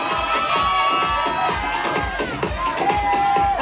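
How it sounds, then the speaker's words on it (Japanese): A crowd at a freestyle battle event applauds and cheers as two competitors enter, a steady wash of clapping and shouts with a host talking over it and a whistle-like tone sounding through. "黒コーナー丸 VS 白コーナーレイゴの登場拍手"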